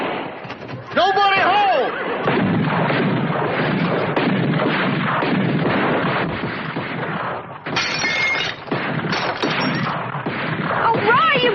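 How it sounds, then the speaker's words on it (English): Gunfire in a Western shootout in Evil Roy Slade: loud, close shots and crashing impacts burst repeatedly through the clip, mixed with someone shouting and other voices. "you've got to stop the shooting and running"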